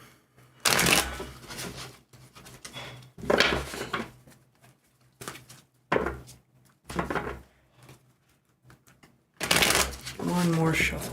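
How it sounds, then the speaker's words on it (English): Tarot cards are riffled and shuffled in several bursts separated by short pauses, close by, with a voice speaking briefly near the end. "One more shuffle here."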